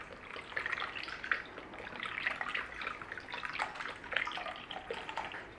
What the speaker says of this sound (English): this is almond milk. So we're going to go in there with about a cup and a half